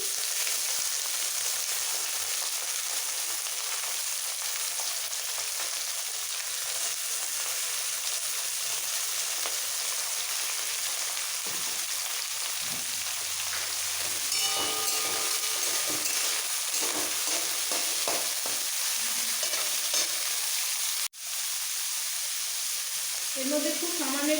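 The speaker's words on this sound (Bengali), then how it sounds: "তেল ভালোভাবে গরম হয়ে গেছে সবার প্রথমে দিয়ে দিচ্ছি গাজর গাজর বিনস একসাথে দিয়ে দিচ্ছি" Carrots and beans fry in hot oil with a loud, dense, steady sizzle that fills the whole stretch, briefly dipping near the end before resuming.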